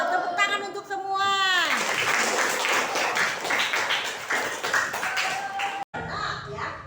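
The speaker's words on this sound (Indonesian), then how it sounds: "Ya, tepuk tangan untuk semua." Students clap together in a classroom, a dense burst of applause that starts right after a voice and runs steadily for several seconds before cutting off, with a brief fresh patch at the end.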